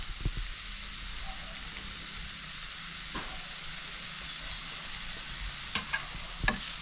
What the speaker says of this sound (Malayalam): ഇതെല്ലാം കൂടെ നമുക്കൊന്ന് ഇളക്കി യോജിപ്പിക്കാം